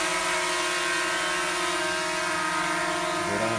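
A mini EX5 GPS drone with brushless motors flies nearby, its propellers giving a steady, loud, high-pitched whirring buzz throughout, with the pitch shifting slightly near the end.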